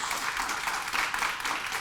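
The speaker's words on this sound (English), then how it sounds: "I want to give a warm round of applause to our panelists" Audience applause for panelists at a community forum, a steady wash of many hands clapping, moderately loud and sustained without pause.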